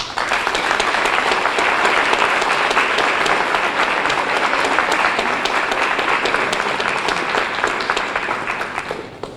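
Sustained, dense applause from an audience at an economic development group's annual meeting, welcoming a speaker to the podium; steady and loud throughout, easing slightly near the end, with no talk over it.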